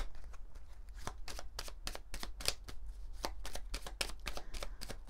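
Oracle cards are shuffled by hand in a quiet room, a rapid run of crisp riffling slaps and flutters repeating for several seconds, close and fairly soft.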